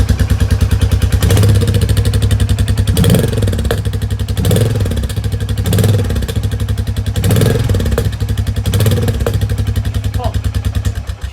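A Royal Enfield Meteor 350 motorcycle with a less restrictive silencer idling loudly up close, its exhaust giving a deep, rapid, throaty pulse with periodic revs swelling and fading.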